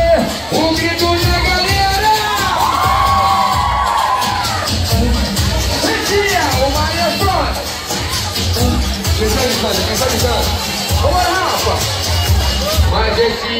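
A dense, loud crowd of young partygoers at a funk show in a Rio club shouts and cheers continuously, with screams and chatter layered over each other.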